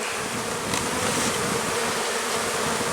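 Honey bees hum steadily at a well-stocked hive, a dense, continuous buzz of many wings that holds close and even throughout with no voices.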